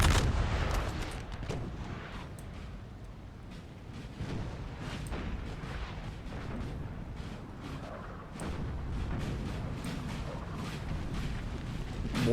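Musket volleys and artillery fire boom and crackle almost without pause in Napoleon: Total War, during a Crimean War battle at Balaclava in 1854. The loud, dense gunfire carries through the whole stretch.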